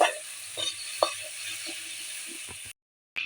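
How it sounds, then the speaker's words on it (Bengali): Shrimp frying lightly in hot oil, a moderate sizzle with a few knocks and clicks from the pan, cutting off abruptly near the end. "তেল গরম হয়ে গেছে, মাছটা আমরা হালকা করে ভেজে নেবো, খুব বেশি ভাজবো না"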